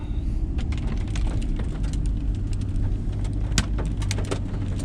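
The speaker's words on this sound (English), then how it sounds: "It's almost like sleet is falling out of the sky." Ice pellets or sleet falling steadily during an ice storm in St. Mary's County, ice-coated trees nearby, giving a dense, continuous patter with scattered sharper ticks and a low rumbling background throughout.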